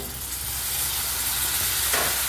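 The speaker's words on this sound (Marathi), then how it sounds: "मी आता छान हलवून घेते म्हणजे हे आपण जी पेस्ट केली होती ना ती छान परतली जाईल तेलामध्ये" Ginger, garlic and coriander paste sizzles steadily in hot oil while being stirred, a dense continuous frying hiss that stays close and even with no voices.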